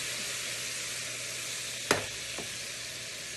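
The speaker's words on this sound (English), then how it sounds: "now that it looks like our shallots are cooked enough, we will add the reserved balsamic vinegar" Shallots frying in a pan after balsamic vinegar is added, giving a steady, quiet, close sizzle with a single brief clink of a utensil partway through.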